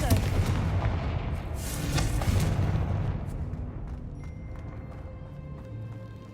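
A Confringo blasting spell from Hogwarts Legacy bursts loudly in a decayed, long-abandoned place, a broad booming blast that rolls on and slowly fades away.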